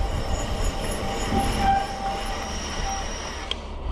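Front disc brakes on a Lectric XP 3.0 long-range e-bike squealing while bedding in after a hard downhill, a loud sustained high-pitched whine over rolling noise, steady and close, ending in a sharp squeak.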